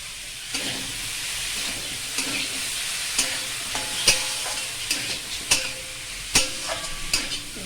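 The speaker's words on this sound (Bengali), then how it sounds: "আর একবার ধুয়ে দুটো একসাথে ভাজবো।" Mutton liver and a second ingredient frying together in a pan for a dinner with parathas, giving a steady close sizzle with intermittent sharp scraping and clacking spatula stirs throughout.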